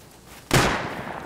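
A single sharp gunshot in the video game Rust, loud and close, with a short decaying tail after the blast and quiet beforehand.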